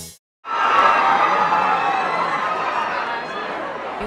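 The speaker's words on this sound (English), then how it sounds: "You walked in and the crowd erupted." A crowd at Macy's erupting into loud cheering and excited chatter as Beyonce walks in, sudden after a brief silence and then sustained, dense and near.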